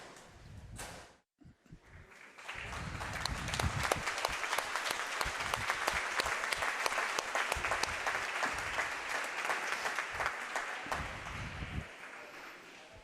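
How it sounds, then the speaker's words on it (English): Spectators at a high school varsity swim meet clap steadily for about ten seconds, a dense, echoing burst of applause in an indoor pool hall that swells quickly and then tapers off. "That clap that you viewers at home were hearing just a second ago"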